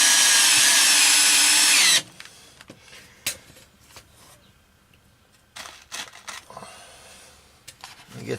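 A power drill drives self-tapping screws into a metal plate on an RV, whirring loud and steady for about two seconds before stopping, followed by faint clicks and handling noises.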